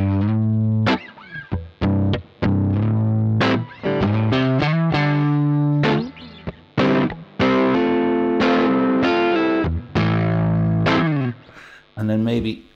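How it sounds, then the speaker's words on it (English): Electric guitar played through a Laney L5 Studio amp's clean channel with the bright switch on and an overdrive pedal, bluesy phrases of bent notes and chords in loud, sustained bursts separated by short gaps, with reverb tails. "if you do that similar kind of bluesy thing with the overdrive pedal on the clean channel with the bright switch on, it's quite nice"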